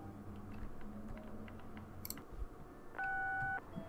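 A phone call rings unanswered in the video game Answer Knot. One short, steady electronic two-tone ring sounds near the end over a low, muffled background hum.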